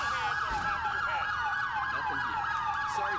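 Police siren in GTA 4 with the LCPDFR mod, a fast yelping warble repeating rapidly and loud throughout over a low vehicle rumble, with no voices.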